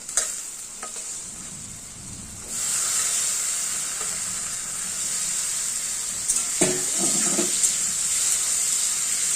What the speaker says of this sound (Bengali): চিংড়ি মাছটাকে দিয়ে একটু ভাজা ভাজা করে নেবো